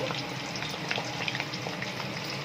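Hibiscus leaves and flowers dropped into hot oil, giving a steady, fairly quiet sizzle and crackle throughout with small pops, no talking.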